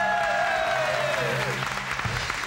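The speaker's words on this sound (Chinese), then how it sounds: "掌声给贺小敏鼓励一下" A studio audience on a Taiwanese TV variety show claps in a dense, sustained burst of applause, with a descending musical sound effect sweeping over it at the start.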